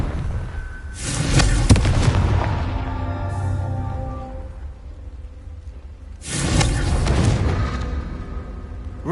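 Two loud Confringo spell blasts go off in the Hogwarts Legacy video game, each a booming burst with a sharp onset and a long rumbling decay, spaced several seconds apart.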